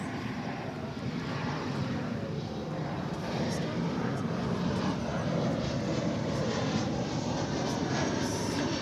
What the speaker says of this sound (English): Looks like an Airbus A319 to me.